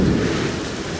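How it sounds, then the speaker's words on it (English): A southeast Queensland thunderstorm fills a brief moment with dense, steady rain hiss and a low rumble underneath, loud and close with no voices. "it's the time of the year we get storms in Queensland, southeast Queensland"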